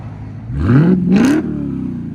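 A 2022 Dodge Charger SRT Hellcat with its 6.2L supercharged HEMI V8 revs up once in a rising, rumbling sweep, peaks sharply, then settles back to a loud, throaty idle nearby.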